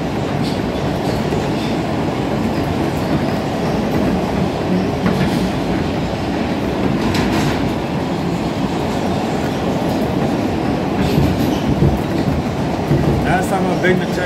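An R160A E subway train rides the rails toward Jamaica Center, a loud, steady rumble from onboard with rhythmic wheel clacks and faint squeals throughout.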